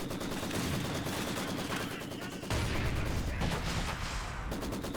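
Rapid gunfire in a competitive match of a tactical war video game, sniper shots mixed with continuous light machine gun bursts, dense and rattling with a heavier surge halfway through, a voice faintly under it.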